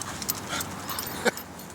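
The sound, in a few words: pit bull dog whimpering and panting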